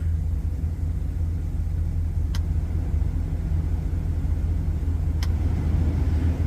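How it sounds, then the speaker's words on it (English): A Chevy-GMC car's HVAC blower fan runs as a steady, even whoosh with a low rumble underneath, lasting the whole stretch without change, plus two tiny faint ticks. "That fan doesn't sound as high as the other one was."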